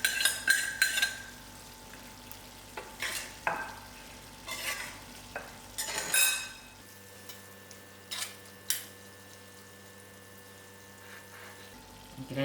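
Beef mince and tomato frying in a pan, a low steady sizzle broken by sharp scrapes and clinks as a spoon stirs and breaks up the meat, the scraping coming in repeated bursts before easing off.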